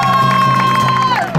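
Aboard a double-decker bus in Toronto, a crowd of Hare Krishna devotees cheers and whoops in welcome, a short burst of loud mixed voices over a sustained droning tone.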